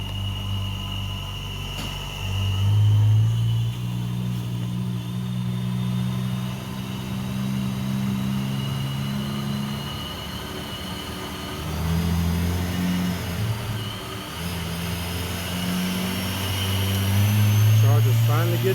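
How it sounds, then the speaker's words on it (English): A Dodge Charger engine runs on a dyno during tuning, rising and falling through several loud, sustained revs, with a person talking over the roar at times. "I'll get some footage of it on the dyno"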